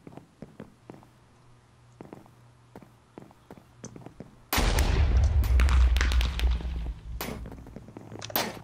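Gunfire in the Minecraft minigame QuakeCraft: faint clicks and taps give way to a sudden loud burst of dense, sustained blasting that runs for a few seconds, then tapers into scattered shots.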